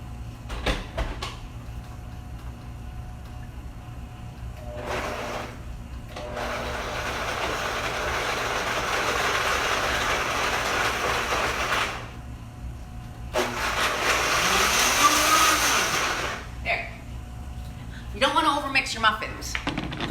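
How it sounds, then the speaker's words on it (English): A Vitamix blender whirls dates and egg together in a kitchen, giving loud bursts of motor roar that rise and stop, separated by pauses, while people talk in between. "Put the dates in the blender."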